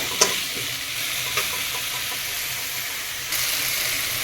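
Ginger, garlic, green chillies, onion and tomato frying in a pan for a rohu fish curry, with a loud, steady sizzle throughout, a couple of faint utensil taps, and no voices.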